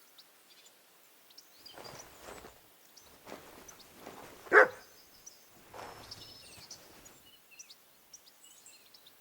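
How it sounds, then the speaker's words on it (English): A dog barks several times in Kingdom Come: Deliverance 2, spaced out and moderately distant, with one louder, sharper bark in the middle and quiet surroundings between. "Barking? It's coming from over there."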